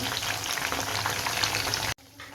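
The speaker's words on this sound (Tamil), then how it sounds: "இப்போ ரெண்டு சைடும் நல்லா பொறிஞ்சிட்டு எடுத்து வச்சுக்கலாம்" Chicken sizzles steadily in a frying pan over a medium flame, a dense, even crackle that runs unbroken before cutting off abruptly near the end.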